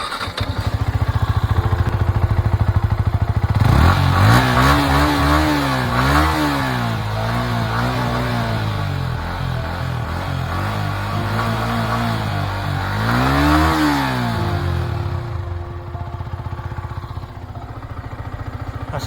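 A Yamaha R15 V4 motorcycle, two years old and well maintained, idles and then is revved repeatedly, its engine pitch rising and falling in several loud, close sweeps before settling back to idle.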